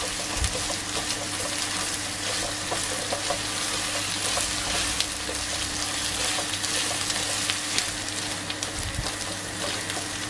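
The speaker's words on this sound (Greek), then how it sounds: "Θέλουμε να τσιγαριστεί ο πελτές." A spoonful of tomato paste with a little sugar sizzles and fries steadily in a pan, a continuous loud crackle throughout with occasional stirring, no talking.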